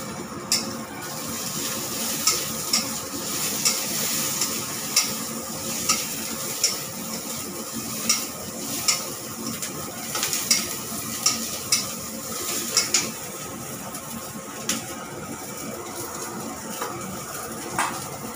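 Chopped onion and green chillies fry in a pan for a tomato and bori dish, with a constant close sizzle broken by regular sharp clicks and scrapes of a spatula stirring.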